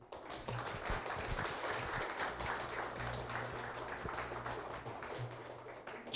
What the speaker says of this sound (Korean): 합격하신 모두에게 수고하셨다고 서로 심찬 박수를 보내주죠